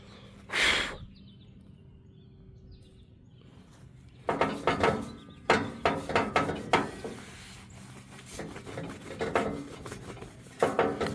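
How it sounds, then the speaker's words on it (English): Light hand buffing of an outdoor gas grill with polishing compound, soft rhythmic rubbing strokes repeating close by after an early brush and a quiet pause, moderately loud with no talking. "Just a very, very light buff with some polishing compound. Don't push too hard."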